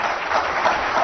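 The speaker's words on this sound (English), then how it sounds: "Let's give them all an applause" Dense, steady audience applause filling a conference hall at a diamond-industry marketing session, loud and continuous throughout.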